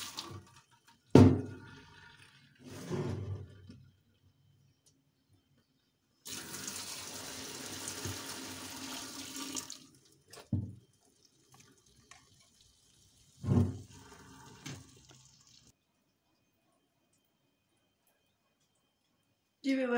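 Cooked rice for sweet mutanjan is turned under cold running water, a roaring pour lasting several seconds in the middle, set between short bursts of someone talking and quieter pauses.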